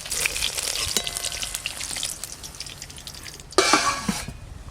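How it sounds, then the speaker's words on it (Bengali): Cauliflower and egg pieces fry in hot oil with a steady, dense sizzle and crackle, close and fairly loud, with a brief louder flare near the end. "এইগুলো একবারে ভেজে নেব এইগুলো ভাজা হয়ে গেল তুলে নেব"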